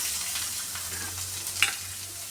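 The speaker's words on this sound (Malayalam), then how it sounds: "ഈ ചുവന്നുള്ളി കുറച്ചെടുത്ത് നല്ല വട്ടത്തിൽ അരിഞ്ഞു വച്ചിരിക്കുന്നു. അതൊന്ന് മൊരിച്ചെടുക്കാം." Thinly sliced shallots frying in hot oil with fenugreek seeds to temper a fish curry give off a steady, close sizzle, with one brief clink near the end and no talking.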